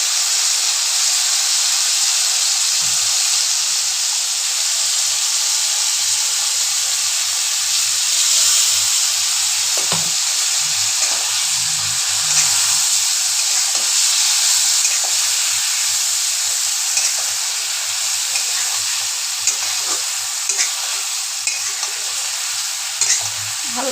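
Mustard and poppy seed paste sizzles steadily in a hot pan for a drumstick and potato chorchori, a dense broadband frying hiss with occasional stirring scrapes, close and continuous with no talk.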